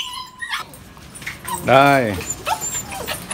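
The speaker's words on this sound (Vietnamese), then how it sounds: "con này bé xíu nhưng mà hay hú" A small Phu Quoc puppy gives a drawn-out, high whimpering howl lasting about half a second, close and fairly loud, with a person speaking briefly around it and faint yips nearby.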